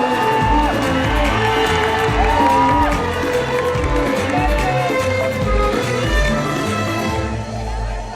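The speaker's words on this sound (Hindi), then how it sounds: "जोरदार तालियां।" A crowd at the Noida Dance Championship claps and cheers loudly with whoops and shouts, layered over continuous loud music that plays throughout.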